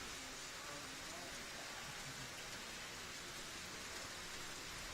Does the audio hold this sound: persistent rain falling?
yes